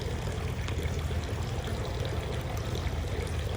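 Congress Springs mineral water pours from a spring fountain in Congress Park, Saratoga Springs, a steady close splashing stream with no pauses.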